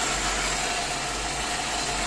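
A 2003 Daewoo Lanos with a 1.6-litre four-cylinder carburetor engine idles steadily with a low, constant hum, close and even, with no voices over it.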